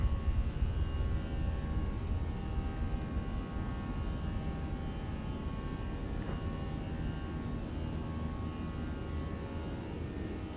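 An A320 airliner in Microsoft Flight Simulator 2024 climbs out after takeoff with its gear retracting, a steady broadband engine roar that holds loud and constant throughout with no talking.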